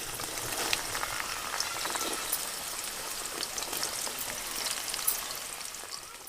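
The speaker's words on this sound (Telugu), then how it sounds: "ఇప్పుడు ఈ బెండకాయలు మనం ఒకేసారి కాకుండా 2 సార్లు ఫ్రై చేసుకోవాలి." Okra pieces frying in hot oil for a peanut-and-okra side dish, giving a steady, dense crackling sizzle that stays loud and even throughout with no talking.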